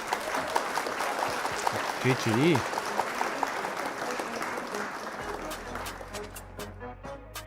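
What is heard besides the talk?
applause after the game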